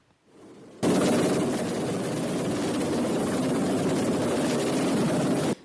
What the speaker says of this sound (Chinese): 救援直升机停伫天顶